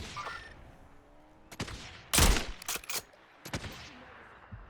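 Sniper rifle shots ring out during a battle royale video game firefight, several sharp, loud cracks with one especially heavy blast near the middle, spaced irregularly over low background game noise.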